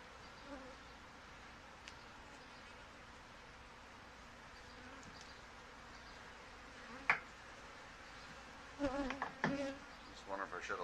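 Honey bees buzz in an open hive with fresh brood, a faint, continuous hum broken by a few brief clicks and handling knocks near the end.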